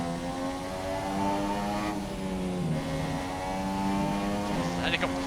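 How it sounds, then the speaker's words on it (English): A helicopter flies overhead in humid Nottingham, making a continuous droning rotor hum whose tones slowly waver and shift, with a couple of small clicks near the end. "Helicopter flying over our heads."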